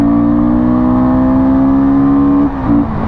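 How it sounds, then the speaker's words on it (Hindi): A Guerrilla motorcycle accelerates hard with a loud, steady, droning engine roar that dips briefly near the end, with no talking. "अब मैं इसको बाइक को भगाऊंगा बस"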